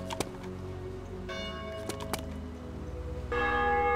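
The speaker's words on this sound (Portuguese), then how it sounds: "Opa, sininho." A church bell rings in the survival game DayZ Mod with sustained metallic tones and a few sharp clangs. It swells louder near the end against a steady ambient background.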